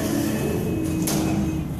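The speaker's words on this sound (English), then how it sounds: "Hit the door close button" A Dover service elevator door at a hospital slides shut with a continuous rumbling whir and a brief rising swish near the end, close and loud, with no talk.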